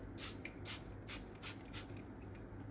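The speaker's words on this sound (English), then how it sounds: "I'm just gonna spray." A spray bottle of cleaner squirts in quick repeated bursts, about six short hissing sprays in a loose rhythm, close by and fairly quiet.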